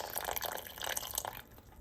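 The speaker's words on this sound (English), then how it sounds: "We go ahead and add a tiny bit of water to this." A small splash of water poured from a mug into a pinkish-purple berry pasta sauce, giving a soft, close trickle with faint drips for about a second before it stops.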